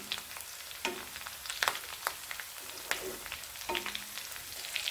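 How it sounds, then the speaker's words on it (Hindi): Green chillies going into lightly browned onions frying in a pan, a soft, steady sizzle with scattered sharp crackles and pops, close but fairly quiet, with no talking. "प्याज हल्की ब्राउन हो गई है, अब इसमें हरी मिर्च डाल देना है।"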